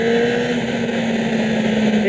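A 2012 Kawasaki Ninja ZX-10R ABS motorcycle being ridden, its engine holding a steady, loud hum with wind rush throughout the brief stretch.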